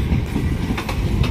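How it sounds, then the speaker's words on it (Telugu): A train rolls into Palakollu railway station, loud and close, with a continuous rumble of wheels and rhythmic clatter over rail joints. "ఇదిగోండి ట్రైన్ చూస్తున్నారు కదా, ఈ ట్రైన్ కూడా వచ్చేసింది"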